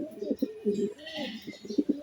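A Budapest racer pigeon coos up close in repeated low, throaty bursts with short gaps between them, and faint background noise underneath.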